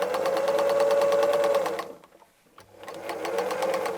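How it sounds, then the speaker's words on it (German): A sewing machine stitches fabric for a bottle bag along a marked line, running in a fast steady rattle, stopping briefly in silence, then starting again, close and clear. "Wir nähen einmal genau auf unserer Linie. Wir fangen in einem Bogen an."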